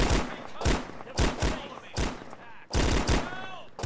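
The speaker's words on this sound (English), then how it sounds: "Somebody's shooting" Gunfire in the video game Karma, a loud close volley of about eight sharp shots in irregular bursts, with a short lull before the last burst.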